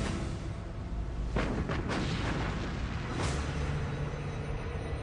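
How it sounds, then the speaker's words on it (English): The main guns of the German battleship Bismarck fire in the May 1941 battle against Hood: a few heavy booms rise out of a constant loud roar of wartime background noise. "Bismarck opens fire."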